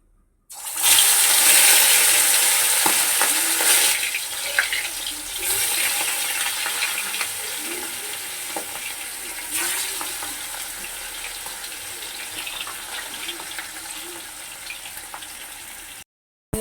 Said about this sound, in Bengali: তেলটা গরম হয়ে গেলে আমি ভেজে নেব গরম হয়ে গেছে মাছগুলোকে আমি ভেজে নেবো